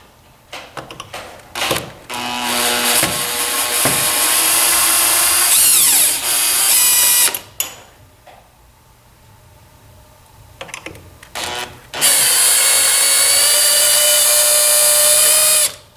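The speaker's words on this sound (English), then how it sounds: "we're going to remove 3 screws on each side that secure that plastic frame to the metal frame down the sides" A power drill backs out screws holding a massage chair's plastic frame to its metal frame, loud whirring bursts with short pauses and a long quiet gap before a final sustained run.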